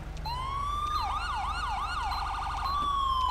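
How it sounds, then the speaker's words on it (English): Police car siren in the video game LSPDFR, a loud steady electronic wail that switches into a rapid yelp pattern before returning to a long rising wail, heard close with a low engine hum beneath. "I think I'm also going to change out the siren"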